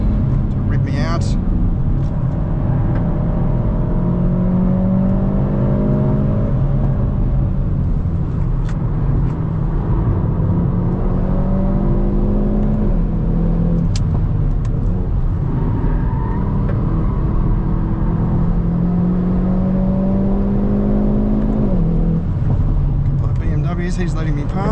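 A Hyundai i20 N or i30 N on the Nurburgring track, heard from inside the car: a steady engine drone with rising and falling revs throughout, under a driver talking.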